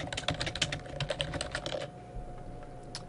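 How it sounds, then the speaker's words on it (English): A computer keyboard typing a comment, with a rapid run of close, crisp keystrokes for under two seconds that then stop, leaving quiet room tone. "So let's type in a comment about how awesome this blog post is."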